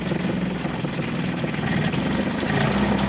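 A rebuilt Hangkai 6hp two-stroke outboard motor idles close by with a buzzy, steady drone that wavers slightly in pace, running alone without voices.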